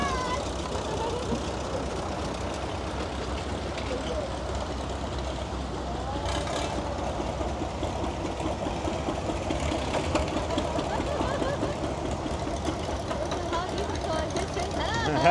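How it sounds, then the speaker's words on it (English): Tractors drive past in a parade, their engines giving a steady low rumbling drone at a middle distance, with indistinct voices from onlookers mixed in. "it's really nice to see these tractors in action, moving around"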